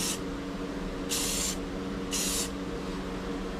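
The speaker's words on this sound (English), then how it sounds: "I was gonna run a couple light coats with the clear" Spray can laying clear coat onto Tao Tao 50 scooter plastic: three short hissing bursts, close and distinct, with a steady background hum in the gaps between passes.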